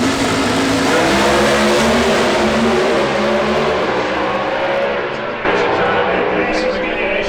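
NHRA drag racing car roaring at full throttle down the strip, a loud, dense continuous engine blast that holds steady before a brief dip and surge near the end, with crowd and announcer noise mixed underneath.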